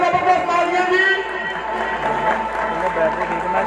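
A crowd at a 2019 prize-giving ceremony in Lahore cheers and claps in a dense, steady roar, with voices and shouts layered through it.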